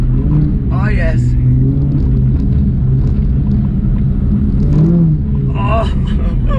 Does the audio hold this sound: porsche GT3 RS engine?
yes